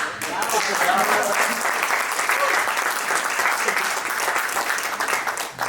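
An audience at an anniversary ghazal recital applauds, a dense, continuous wash of clapping that swells quickly and holds steady for several seconds before starting to thin.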